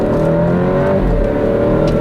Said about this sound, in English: It's not a ton of exhaust note, it's really just more induction noise.